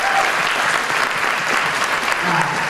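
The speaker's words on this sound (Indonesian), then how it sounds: "Tepuk tangan dulu untuk Komunitas Yes." A seminar audience gives a loud round of applause for Komunitas Yes, continuous dense clapping with faint voices mixed in.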